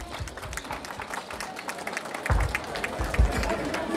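Applause welcomes anthropologist Dr. Luis Chaparro Frías at a Huaris de Chilia dance event in Pataz, Peru, a steady crowd clapping over the whole stretch with a few louder bursts near the end.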